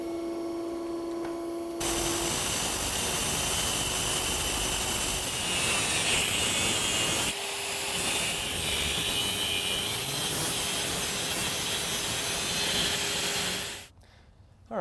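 An electric motor shaft is cut with a power tool: a loud, harsh, continuous grinding roar starts abruptly, runs for about twelve seconds with a brief dip partway, then stops.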